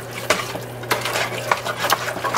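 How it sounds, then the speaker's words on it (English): Spoon scraping and clinking around a pot while milk is stirred into a cheese sauce, several distinct knocks at an irregular rhythm over a steady low hum, close by. "Keep adding your milk little bit by little."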